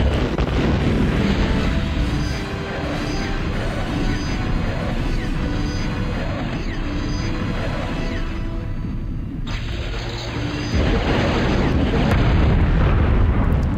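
A massive explosion in the Total Annihilation strategy game roars continuously at full volume, a dense rumbling barrage of blasts that dips slightly partway through before surging again.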